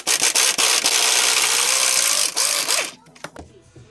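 Loud, continuous grinding and rubbing of a ratchet working a large 15/16 control arm bolt loose on a 2005 SRT4, with a few sharp clicks, then tapering into quieter clicks and scraping near the end.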